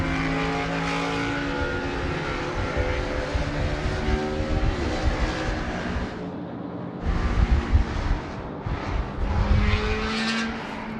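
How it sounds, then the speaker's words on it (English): Qantas airliner taking off from runway 34 left at Sydney Airport, a steady broad engine roar with tonal whine holding throughout, loud and continuous with slight surges toward the end, no talking. "Qantas 653, runway 34 left, clear for takeoff."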